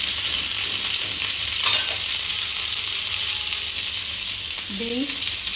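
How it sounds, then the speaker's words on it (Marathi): Carrots and mixed vegetables sizzle steadily in a hot pan while being stir-fried for spring roll filling, a continuous loud hiss with faint stirring clinks throughout. "आता टाकतोय आपण गाजर"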